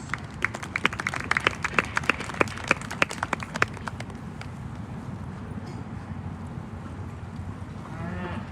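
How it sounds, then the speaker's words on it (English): Scattered clapping from an audience at an open cattle show in the Arizona National livestock arena. Sharp claps come in the first few seconds over a steady crowd and barn murmur, then fade out. "Please give them a big round of applause."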